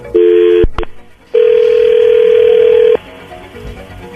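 After a phone call is disconnected, a steady telephone tone sounds, first briefly, then again for about a second and a half. It is loud and alone, with faint background noise afterward.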